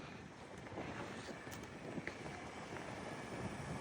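Wind blows at the snowy Blue Knob ski resort, a steady rough rumbling gust that buffets the microphone throughout, with no clear voices.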